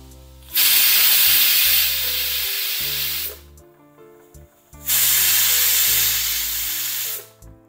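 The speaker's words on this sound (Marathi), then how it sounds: "मंद गॅसवरती कमीत कमी 7 ते 8 शिट्ट्या आपल्याला काढायच्या आहेत" A pressure cooker cooking masoor dal on a low gas flame lets out two loud, sustained whistles of hissing steam, each lasting a few seconds with a quieter pause between, close by.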